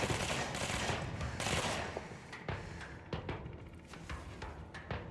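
Rapid gunfire in a video game crackles in repeated bursts and single shots, loud at first and then more scattered, with no voices over it.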